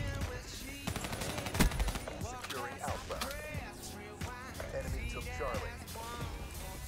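Gunfire in Call of Duty Black Ops 3 on PC, with rapid automatic shots and bursts mixed into busy game sound and music throughout, loudest near the middle, while a player talks over it.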